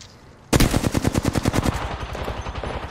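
Automatic gunfire in the Apex Legends video game: a sudden loud burst of about fifteen rapid, evenly spaced shots, followed by a fading echoing tail.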